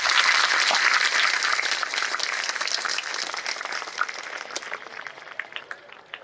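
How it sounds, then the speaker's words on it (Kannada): Audience applause for a war hero at a Kannada talk by Abhinava Gavisiddeshwara Swamiji, a dense, steady roar of many clapping hands that gradually thins and softens toward the end, with no talk over it. "ನಮ್ಮದೊಂದು ಚಪ್ಪಾಳೆ ಅಂತ ಹೇಳಿ"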